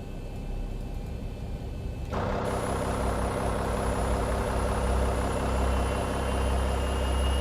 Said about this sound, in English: Let's get engine started.